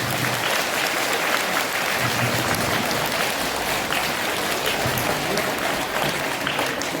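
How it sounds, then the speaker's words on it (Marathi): Sustained audience applause fills the hall at a school's International Women's Day event in Nashik, a steady dense clapping that rolls on evenly for several seconds without pause, welcoming an elderly guest. "त्या आजींचं आपण जोरदार टाळ्या"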